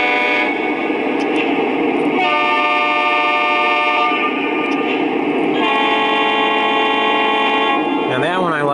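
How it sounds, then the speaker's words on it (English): A loud model train horn from a Lionel FEC Autorack set blares in long sustained chords, the tone changing between five distinct horn pitches, ending with a brief warbling sound. "There's the 5 different horns."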